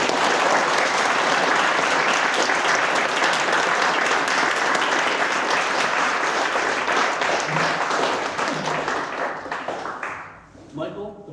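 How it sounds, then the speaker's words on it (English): An audience at an Eagle Scout ceremony breaks into dense, sustained applause that holds steady for about ten seconds, then thins and fades out as a voice starts speaking. "Let's give him a round of applause."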